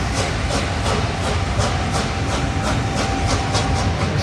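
Steam locomotive 60007 Sir Nigel Gresley running through York station, a loud, steady roar with a fast rhythmic beat of exhaust or wheel clatter throughout, no voices.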